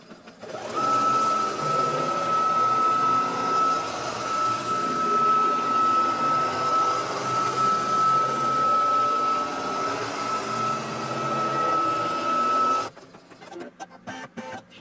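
A Brother NQ3700D embroidery machine stitching a batting tack-down, a loud, steady mechanical whir with a persistent high whine for about twelve seconds before stopping, followed by faint handling clicks.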